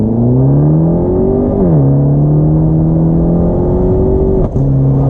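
Fiat 500c Abarth engine heard loud and close from inside the car, a sustained drone whose pitch climbs, drops sharply on a downshift, then rises again before a brief gear-change dip.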